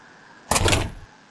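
A steel door in the Minetest video game swings shut with a single loud, short clunk and brief metallic rattle, standing alone against quiet background.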